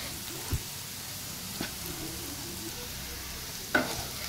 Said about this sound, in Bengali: আলু আর কাঁচা লঙ্কা কুচিটা ভাজা ভাজা করে নেবো